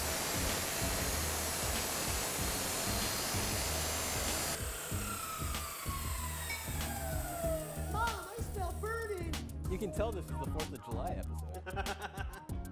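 A saw blade bites through steel, loud and continuous, with a broadband grinding roar that shifts partway through into squealing, pitch-sliding screeches and uneven scraping bursts toward the end.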